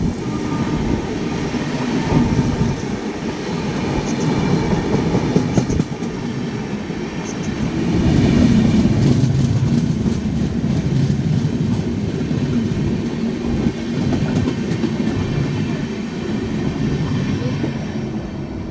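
Rumbling steadily from on board the Mahakaushal Express, the carriage carries a loud continuous roar with rhythmic wheel clatter over the rails, swelling louder midway through the run.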